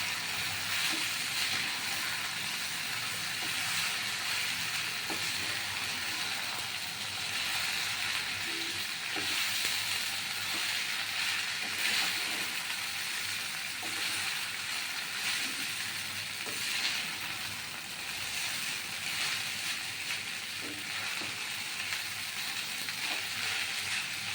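Boiled chowmein noodles tossed in oil in a hot pan give a steady, even sizzle and hiss that runs unbroken throughout, with no voices.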